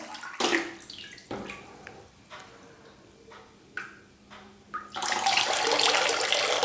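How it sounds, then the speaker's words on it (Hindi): Water poured from a mug in a steady stream over a person's head, splashing continuously in a close, soft trickle that breaks into separate pours before swelling into a louder, sustained flow near the end. "इस तरह से हमें लगातार पानी की धारा डालनी है।"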